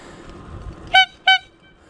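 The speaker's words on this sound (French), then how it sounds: "Alors, le klaxon." Two short, bright horn honks in quick succession, clear and close, over a quiet background.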